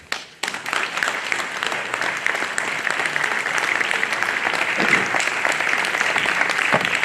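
An audience at a regional AVIS association assembly in Budoni, Sardinia, breaks into sustained applause, loud and dense from a sharp start and holding steady to the end.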